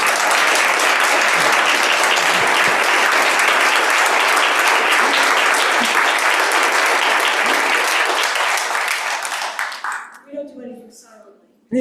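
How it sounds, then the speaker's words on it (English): An audience in a synagogue sanctuary gives a dense, sustained round of applause that holds loud for about ten seconds, then thins and fades out, with a voice speaking briefly as it dies away. "So could we just have a round of applause for these two?"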